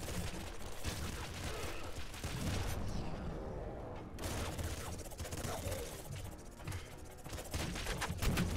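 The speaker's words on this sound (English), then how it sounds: "I don't know what's doing more damage, the flame cannon or this, but it seems like the flame cannon." Flame cannon firing in the video game Nuclear Throne during a boss fight, a dense, continuous crackling and roaring burst of noise with rapid mechanical clatter, loud throughout and pausing briefly partway.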